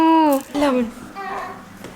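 A baby girl makes small cooing and babbling vocal sounds, close and clear, in short rising and falling bursts with no adult talk.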